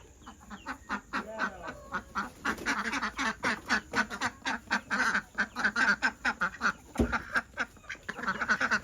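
A group of ducklings at a small makeshift pool quacks in a rapid, steady stream of short calls, close and lively throughout, with no talking over them.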